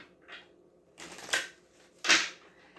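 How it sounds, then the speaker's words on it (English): Two quick rustling bursts of tarot cards being shuffled close by, with a softer flick just before; no talking. "We'll shuffle."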